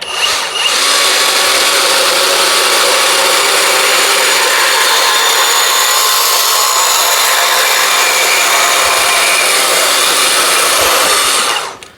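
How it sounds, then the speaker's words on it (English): A portable band saw cuts through a length of steel exhaust pipe in a workshop, a steady loud whining, grinding drone that holds for about eleven seconds without a break, then stops. "we have a piece of exhaust pipe here. So let's cut through that."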